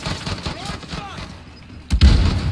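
Gunfire in a first-person shooter video game, a quick flurry of shots early on, then a louder close blast near the end, with players talking over it.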